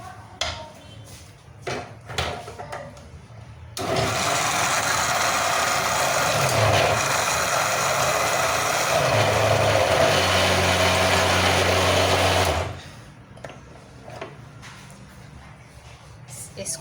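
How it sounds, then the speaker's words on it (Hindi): An electric kitchen grinder whirs loudly on rice for about nine seconds, starting abruptly and cutting off sharply, with quieter kitchen handling sounds before and after. "ग्राइंडर में डाल दें।"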